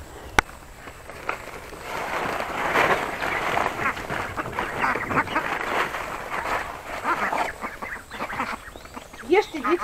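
Ducks at a village homestead quack and chatter in a busy cluster while being fed, close and fairly loud, with occasional sharp knocks and a person speaking now and then.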